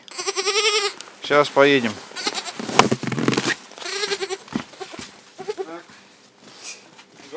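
Young goat kids in a winter village bleat loudly and repeatedly up close, their wavering cries overlapping, while someone speaks briefly between them.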